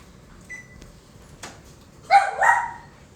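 A dog barks twice in quick succession, fairly close, following a few faint clicks and a soft thud in an otherwise quiet room.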